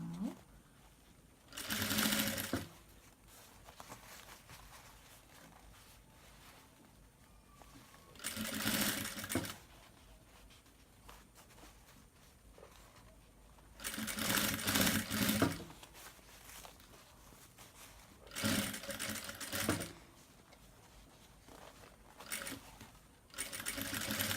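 A sewing machine stitching a round bag runs slowly in five separate short bursts of steady whirring, each a couple of seconds long, with quiet pauses between.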